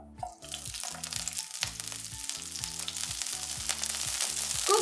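Broccoli florets hit hot olive oil in a pan, setting off a sudden loud sizzle that keeps crackling steadily and grows slightly louder, with occasional stirring.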